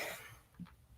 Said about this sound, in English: And now I'm having issues clearing my throat too.